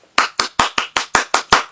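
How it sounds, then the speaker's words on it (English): Eight crisp hand claps in an even, brisk rhythm, close and loud with brief silences between each clap, no speech. "Round of applause, okay?"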